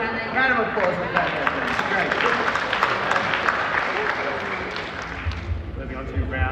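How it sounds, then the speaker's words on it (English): Sustained applause from a crowd, dense clapping continuing steadily throughout with a voice talking over it. "Round of applause for that."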